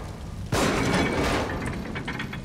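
A sudden loud blast bursts out and rings on with a noisy, crackling decay, like a gunshot in the game The Evil Within, followed by faint scattered clinks.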